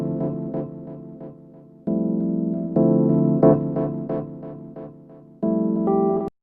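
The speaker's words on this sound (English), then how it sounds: "But hearing those chords alone, they sound like this." A sequence of sustained synth chords from a hip-hop beat, played alone without drums, each stab ringing and fading before the next in an uneven, loop-like pattern.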